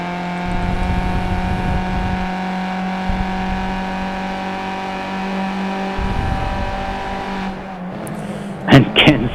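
Race cars lapping Monza in the iRacing sim, Skip Barber open-wheel machines, droning steadily at high revs with a sustained engine whine, brief shifts and a burst of sharper tire or engine noise near the end.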